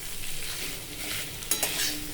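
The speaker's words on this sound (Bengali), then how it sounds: "এর মধ্যে ছাড়িয়ে রাখা মাছটাও দিয়ে দিলাম, দিয়ে সব কিছু খুব ভালো করে মিশিয়ে নেব" Peeled fish stirred into a pan of spiced paste for potol dolma, a brief steady sizzle with soft scraping stirs and a couple of quick clinks of the spatula.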